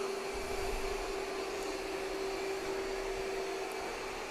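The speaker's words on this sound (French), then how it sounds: "On va l'entendre aspirer. Voilà la puissance d'aspiration qui augmente." Ecovacs Deebot T30 Omni robot vacuum with its suction starting up, giving a steady, fairly loud whirring hum with a sustained tonal whine that holds evenly throughout, no voices.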